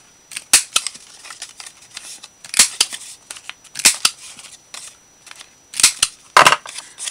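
A corner rounder punch rounds the corners of paper for a Christmas pocket folder in a junk journal craft. Crisp snapping clunks come in small clusters, close and fairly loud, several over a few seconds, with no talk.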